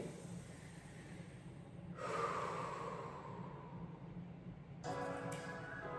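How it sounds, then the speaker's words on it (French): A person breathes during a workout stretch, with a slow, audible inhale and a sharper snort-like exhale. The breaths sound close and fairly quiet over a steady low room hum. "Et on respire."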